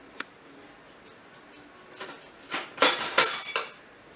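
A knife cuts a buttered homemade roll on a plate, opening with a light utensil clink, then a few crisp, crunchy sawing strokes close by.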